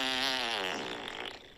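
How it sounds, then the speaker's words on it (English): A recorded fart played back: a loud, drawn-out buzzing rasp that wavers in pitch and trails off into a sputtering tail over about a second and a half. "I'm just going to play you 3 farts"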